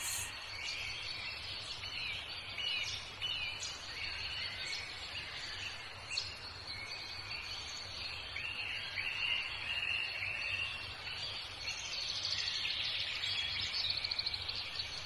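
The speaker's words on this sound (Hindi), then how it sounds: "बागीचे में चिड़ियों की चहचहाने की आवाज" Birds chirp in a garden, with faint, scattered high tweets over a soft, constant insect-like hum, quiet and distant throughout.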